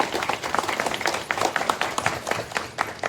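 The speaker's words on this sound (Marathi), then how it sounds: "प्रत्येक सेवाभावीसाठी आपण थोड्या टाळी वाजवूया" An audience at a devotional gathering gives brief, scattered applause, soft irregular clapping at moderate distance.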